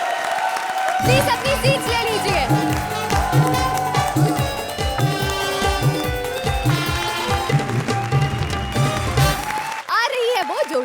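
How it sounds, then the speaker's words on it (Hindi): A studio audience at a televised comedy show applauds and cheers, mixed with loud stage music and an announcer's voice, before the sound cuts off near the end. "जोरदार तालियां"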